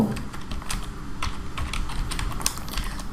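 Fingers type on a computer keyboard in quick, irregular clusters of close, quiet keystrokes, with short pauses between bursts.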